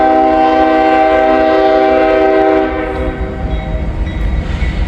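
A train horn sounds loud and close in a sustained chord for the first few seconds at an old ungated crossing with no bells, then gives way to the rumble and clatter of the passing train.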